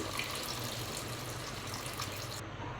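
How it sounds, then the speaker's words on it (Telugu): Steady water pours close by into a cooking aloo gobi curry, a continuous hissing splash without any voices, cutting off near the end. "కర్రీకి సరిపడా వాటర్ అయితే వేసుకున్నాము"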